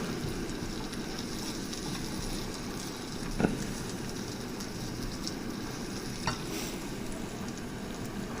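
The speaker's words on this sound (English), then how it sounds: "Eggs are frying up pretty good." Steady sizzling of eggs frying in a hot pan, a continuous crackling hiss with a couple of faint clinks from utensils.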